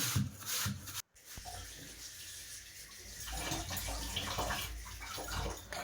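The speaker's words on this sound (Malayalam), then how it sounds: "പിന്നെ ഒരു ആപ്പിളിൻ്റെ തോലെല്ലാം എടുത്തിട്ടായ പിന്നെ ഇങ്ങനെ ചിരണ്ടിയിട്ട് അത് ഇട്ട് കൊടുക്കാം" Apple peel being scraped against a grater in a home kitchen, a steady coarse rasping that runs nearly continuously after a brief pause near the start, fairly close and with no voices.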